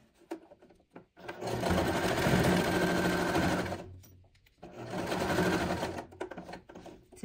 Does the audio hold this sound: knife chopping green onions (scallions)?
no